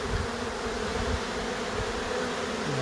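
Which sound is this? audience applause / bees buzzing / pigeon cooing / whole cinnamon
bees buzzing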